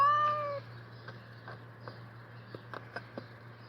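Cat with its paw stuck in a concrete block gives a short meow, followed by faint scraping and taps during the rescue.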